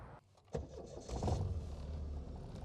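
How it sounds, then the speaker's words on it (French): The engine of a warm Triumph Dolomite Sprint car turns over and catches without choke, rising into a low, steady idle rumble, heard fairly quietly. "déjà ça démarre tout seul, pas besoin de starter"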